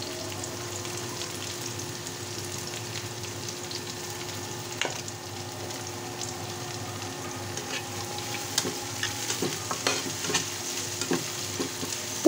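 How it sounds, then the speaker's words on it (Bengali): Chopped onions frying in oil for koi fish bhuna: a soft, steady sizzle with occasional stirring scrapes and light clinks, moderately close and fairly quiet, without any talking. "পেঁয়াজগুলো লাল লাল করে ভেজে তারপর আমি বাকি মশলাগুলো দিয়ে দিব"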